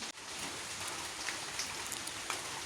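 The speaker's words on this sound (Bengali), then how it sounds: "বৃষ্টি মানে চলছেই" Steady rain falling, a dense continuous hiss of drops on surfaces with a few louder patters, no voices.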